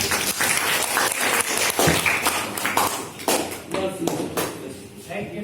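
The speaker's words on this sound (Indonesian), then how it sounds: "Kasih tepuk tangan untuk Priscilla." A school class applauds a classmate, a loose burst of claps from a small group that thins out toward the end, with scattered taps, shuffling and some voices mixed in.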